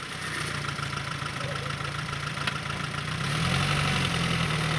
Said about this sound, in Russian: Такой тракторок слепил.